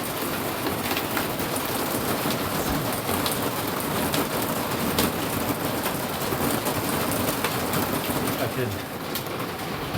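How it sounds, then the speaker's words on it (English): Light hail falling on an old caravan roof, a dense continuous patter across the whole stretch, with a voice talking faintly beneath it. "it's actually hailing now."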